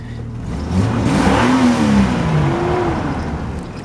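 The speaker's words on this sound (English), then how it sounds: "You can hear that fan catching up with it as you rev it" A Honda Civic engine revs up and holds, a rising and falling mid-pitched drone with a whirring radiator fan running underneath, close and loud throughout.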